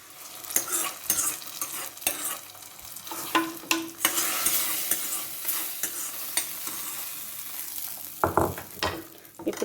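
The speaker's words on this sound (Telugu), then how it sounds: "2 మిరపకాయలు 2 సన్నగా తరిపెట్టుకున్న ఆనియన్స్ వేసుకొని వేయించుకుందాం" Two chillies and thinly sliced onions frying for a dal tempering, a loud close sizzle with frequent stirring scrapes and clinks throughout.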